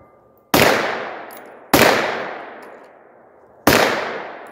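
Turkish MKE AP5, an MP5 clone, fired at targets on a range: three single sharp gunshots spaced unevenly, each loud and close with a long decaying echo, no talking.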